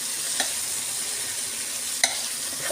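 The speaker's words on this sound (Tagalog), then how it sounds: "yung sili naman ang gigisahin ko" Chili peppers sautéing in a pan with tomato, a steady close hiss of frying oil, with a couple of brief clinks from stirring.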